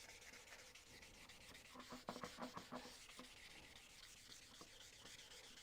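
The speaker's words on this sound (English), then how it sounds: "And I'll sand the whole of the box like so." Automotive sandpaper rubs by hand across a wooden box, a quiet continuous hiss of back-and-forth strokes with a burst of quicker, more distinct scrubbing passes in the middle.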